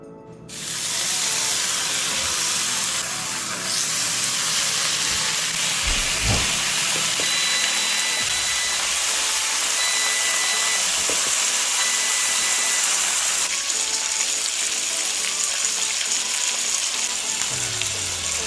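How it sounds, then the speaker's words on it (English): Five strips of bacon sizzling loudly in a pan, a dense continuous hiss and crackle up close with a few soft knocks. "So while our bacon is cooking"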